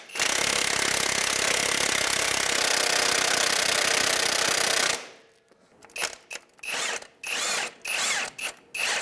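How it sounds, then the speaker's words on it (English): An impact wrench on a 19 mm socket removes the harmonic balancer bolt on a Honda Element engine: one long continuous loud hammering burst, then a series of short rattling bursts close by, with no speech. "You can go ahead and put your 19 millimeter on an impact. And we can take that bolt right out of the middle."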